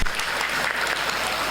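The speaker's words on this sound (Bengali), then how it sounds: "আর একবার সবার কাছে হাততালি চাইছি" An audience at a yoga school's Rabindra Nazrul Jayanti celebration applauds its senior yoga students: dense, steady clapping from a crowd, close and loud, filling the whole stretch without a break.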